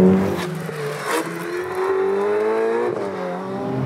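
A Ferrari 488 Pista Spider's 720-horsepower V8 engine roars and revs, its pitch climbing through gears, loud and close with a rough, throaty tone.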